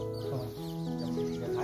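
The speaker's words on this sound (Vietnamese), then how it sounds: "Con này đúng giờ cắt lông nhìn như gà trọi luôn nhỉ?" An F1 Koshamo cross bantam rooster gives a short run of close, clear clucks, heard alone without talk.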